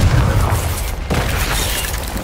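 A Confringo fire spell bursts in the Hogwarts Legacy video game, a loud booming explosion with dense rumbling low end that fills the whole moment, a brief dip then continued blast noise.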